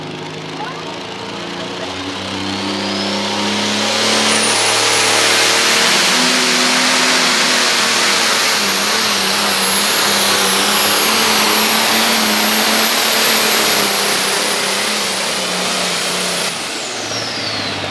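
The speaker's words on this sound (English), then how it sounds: "He's running his full-time tractor, Bleeding Blue, New Holland." A New Holland tractor revs hard at a truck and tractor pull, its engine rising into a loud, sustained roar with a high whine that holds for many seconds before easing back.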